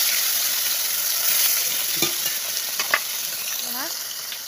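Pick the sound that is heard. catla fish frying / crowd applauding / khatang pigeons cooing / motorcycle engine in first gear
catla fish frying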